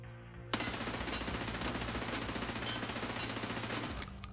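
Sustained full-auto fire from a P90 in the video game Escape From Tarkov, one long rapid burst of evenly spaced shots lasting about three and a half seconds, loud and close over a low background hum.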